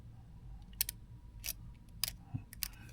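A thin plastic flap on a Revell 1:670 Voyager model kit hull being snipped off, a few quiet, crisp clicking cuts spaced apart in a hushed room.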